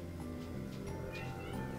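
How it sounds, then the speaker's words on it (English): A house cat meows several times in quick succession over a steady, busy indoor background, the calls short and close. "My cat is talking to me."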